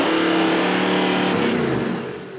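Toyota Land Cruiser 76 series 4WD engine revs hard and loud during a wet winching climb, a steady high-revving roar sustained throughout that eases slightly toward the end.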